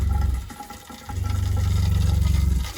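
Pink RV antifreeze runs from a faucet into the drain of a travel trailer being winterized: a steady gurgling pour that pauses briefly, then resumes, close to the microphone.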